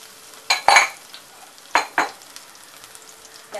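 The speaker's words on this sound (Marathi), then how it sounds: "त्या पेचून घेते आणि पॅनमध्ये टाकते. पॅनमध्ये तेल चांगलं गरम झालेलं आहे." Pieces of shark fish dropped into a pan of hot oil, giving a few separate bursts of sizzling with brief scraping and clinking of a utensil against the pan, with quiet gaps between and no talk.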